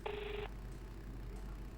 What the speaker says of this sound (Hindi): फोन नहीं उठा रहा है